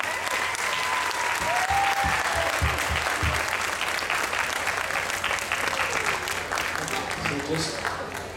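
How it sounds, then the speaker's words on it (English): An audience claps steadily after a children's stage performance, the applause loud and continuous while a person speaks over it. "Another round of applause,"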